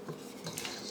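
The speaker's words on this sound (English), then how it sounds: "And I'm going to throw in the shrimp." Shrimp tumbling into a bowl of pasta salad, giving soft clinks of utensils against the dish and a faint wet shuffle, close and fairly quiet with no voices.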